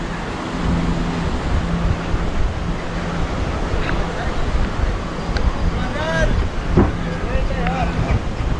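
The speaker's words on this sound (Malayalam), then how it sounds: "കണ്ടോ പുഴ ഒഴുകി നോക്കൂ" A river flows near Sonamarg in Kashmir, giving a steady broadband rush of water with wind buffeting the microphone and occasional faint voices in the background.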